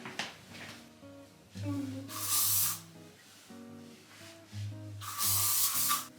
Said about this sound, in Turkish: bir saç spreyi sıkacağım